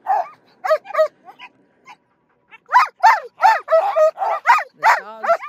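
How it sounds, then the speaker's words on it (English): Sled dogs on the Mendenhall Glacier near Juneau, Alaska bark, yip and whine in loud, close bursts, a short lull giving way to a rapid run of excited barks. "The dogs just want to run."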